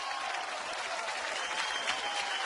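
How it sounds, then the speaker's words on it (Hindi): A crowd claps steadily in sustained applause, dense and even, a continuous close wash of hand claps with no gaps. "इनके लिए जोरदार तालियां हो जाए"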